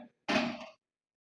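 A cooking pan set down on a stovetop for an onion roast, a single short dull clunk in a quiet kitchen.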